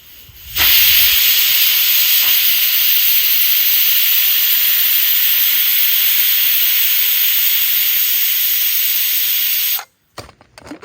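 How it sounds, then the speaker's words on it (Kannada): Pressure cooker in a kitchen, cooking beef with green gram, letting off one long, loud, continuous steam whistle and hiss that holds steady for about nine seconds before cutting off abruptly. "ಆಮೇಲೆ ಸಿಕ್ಸ್ ವಿಸಿಲ್ ಕೂಗಿಸ್ಬಿಡ್ತೀನಿ"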